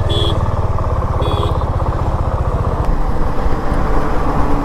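A motorcycle engine runs steadily and loudly at close range with a low, pulsing rumble, with no talking.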